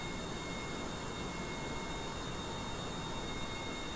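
Jet engines idling on a plane in Kerbal Space Program give a constant flat roar with a thin high whine, steady and unchanging, with no voices.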